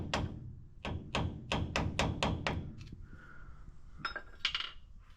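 A flathead screwdriver raps a brake adjuster tab on a 1963 Chevy step van in a rhythmic run of about eight sharp metallic taps, close and loud, followed by a few lighter clinks.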